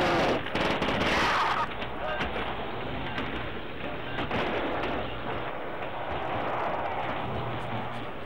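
Rapid bursts of automatic gunfire from a zombie video game, loud and dense, with a heavy sustained volley at the start and continuing clatter throughout.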